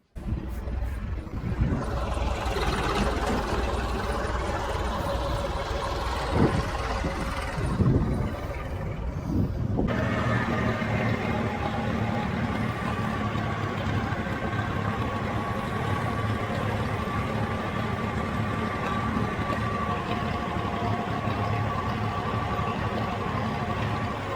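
A green and yellow John Deere 310 industrial tractor engine runs steadily at idle, a continuous low rumble that is close and constant, with a slight shift in tone partway through.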